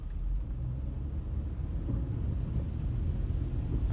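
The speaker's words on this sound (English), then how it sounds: "I'm sorry, y'all, I'm driving" Steady low rumble inside a car while driving, a constant road and engine drone with a slight wind-like hiss, no talking.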